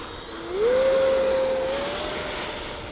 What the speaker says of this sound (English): We got a Viper jet on the runway.